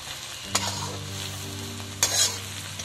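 Carrot cooked in oil is stirred in a pan, a soft steady sizzle with two sharp scrapes of the spoon against the pan, close and fairly quiet, no voices.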